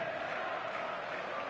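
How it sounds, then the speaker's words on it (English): Crowd cheering in a football video game, a steady, even roar of many voices that holds at one level throughout with no individual words standing out. "Well, the crowd clearly like what they just saw."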